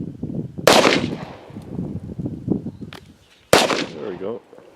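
Gunshots from a woman firing at an outdoor shooting range: two sharp, loud reports about three seconds apart, with voices talking quietly between and after the shots.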